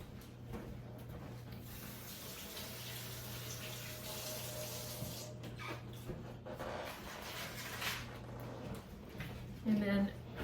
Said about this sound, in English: I'm going to quick wash my hands again.